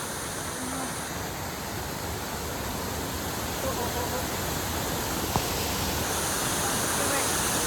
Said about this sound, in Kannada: ರಭಸದಲ್ಲಿ ಬರ್ತಾ ಇದೆ ನೀರು.